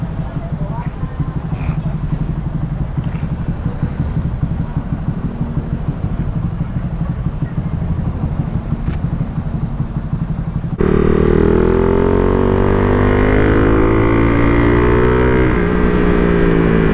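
A motorcycle engine runs on a 15/38 sprocket and RK chain set after a chain, sprocket and front shock repair. It idles with a steady clattering putter, then abruptly grows louder and revs up and down. Talk runs over it.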